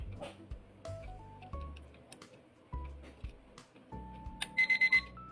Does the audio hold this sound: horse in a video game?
no